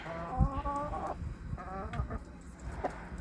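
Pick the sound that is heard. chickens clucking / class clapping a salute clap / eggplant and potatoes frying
chickens clucking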